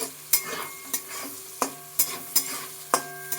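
Whole garam masala and three bay leaves are stirred in hot oil in a pan, sharp spoon-on-metal clinks and scrapes landing every half second or so over a quiet, low sizzle, close and without talk.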